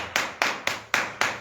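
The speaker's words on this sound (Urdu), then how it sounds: "آئیں خداوند یسوع مسیح کے لیے زوردار تالیاں چاہیے" Applause from a congregation at a church service: five sharp, evenly spaced claps or bursts of clapping, close and fairly loud, with no talk.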